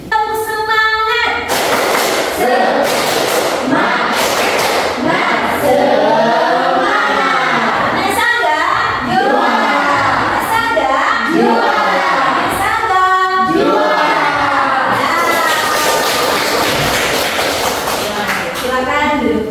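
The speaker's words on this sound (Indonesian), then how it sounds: "Tepuk semangat." A classroom of pupils does a rhythmic clapping chant, with sharp group claps in a steady pattern between loud sung and shouted voices, close and energetic throughout.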